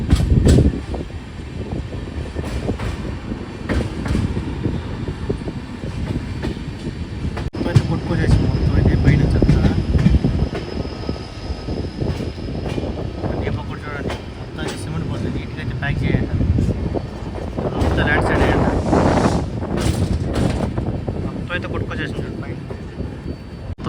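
Karwar Express rolling from Mangaluru toward Yesvantpur, a steady rumble of carriages mixed with gusting wind against the microphone, loud and continuous, with voices faintly present under the noise.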